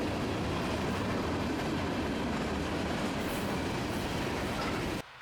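A CSX freight train rolls past close by, a loud, steady roar of wheels and cars with faint clickety-clack, continuing unbroken for about five seconds before cutting off abruptly.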